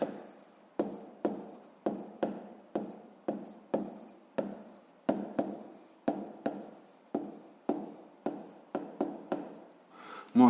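Pen writing by hand on paper while working a 5th-grade maths exercise: a quick run of regular scratchy strokes, close and clear, each stroke a short burst, with no speech.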